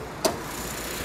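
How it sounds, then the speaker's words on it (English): A standard, unmodified Honda Civic engine idling, a steady low hum with one brief click near the start. "engine's on right now, purring like a kitten"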